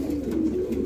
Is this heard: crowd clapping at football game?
no